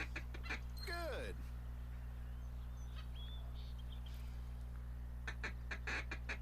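A duck feed call is blown in the Duck Dynasty PS4 hunting game, with a quick burst of quacking notes followed by faint scattered calls over a constant low hum. A few more call bursts come near the end.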